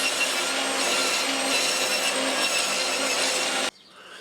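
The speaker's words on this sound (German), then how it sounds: "Und damit das Ganze auch richtig funktioniert, schneide ich direkt den 45° Winkel da hinein." A handsaw cuts a 45-degree angle into a wooden slat for a louvred door, a steady, loud rasping stroke that runs continuously up close for several seconds before stopping abruptly.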